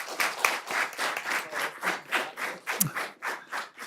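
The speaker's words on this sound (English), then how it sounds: "I want to applaud Miss Betty, who's in the audience right now" An audience at a city planning commission meeting claps in a quick, rhythmic pattern, moderately near, with even pulses continuing through the whole stretch.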